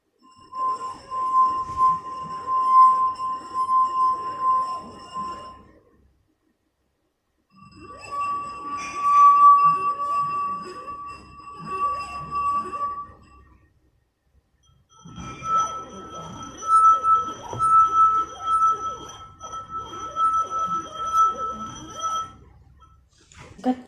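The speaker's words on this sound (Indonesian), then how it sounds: "gelas pertama memiliki bunyi yang paling rendah, yang terisi 3/4 penuh" Three drinking glasses filled with water to different levels ring out when struck, the clear tones sounding in three separate bursts with short silences between them. The fullest glass gives the lowest note.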